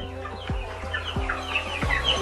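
Local chicks of a non-Giriraj breed at an agricultural research centre cluck and peep in quick, repeated calls, close by and clear, with no voices over them.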